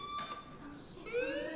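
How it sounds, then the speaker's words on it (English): A fire alarm rings in the video game Life Is Strange as a steady, faint electronic tone that holds through the short moment, with a murmur of voice-like sound beneath. "Hey, do you hear that fire alarm?"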